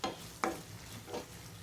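Coriander seeds, dried chillies and cumin roast in a pan for a lady finger curry, giving a faint low sizzle broken by three soft stirring scrapes.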